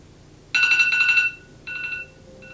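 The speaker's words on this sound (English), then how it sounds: "the timer went off" Timer alarm going off in a quiet room, a loud electronic trilling chime in two bursts, the first longer, then a brief faint repeat, no talking.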